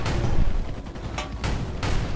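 Rapid jet cannon fire in the arcade flight game Revolution Ace, shooting at trees, comes as loud bursts of dense gunfire with brief sharp cracks, no voices.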